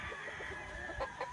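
Lemon 84 gamefowl chicken at a farm, brief clucking calls heard close against steady outdoor background noise.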